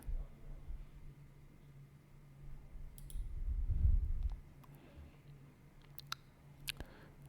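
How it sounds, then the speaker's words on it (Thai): A computer mouse clicks quietly a few times in close succession, with faint background hiss and a soft low thump in the middle. "ให้เราคลิกไปที่อัปโหลดโฟลเดอร์"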